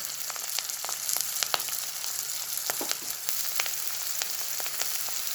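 Mustard seeds and curry leaves crackle in hot oil for kande pohe, a steady soft sizzle scattered with sharp, irregular pops close by, with no one talking.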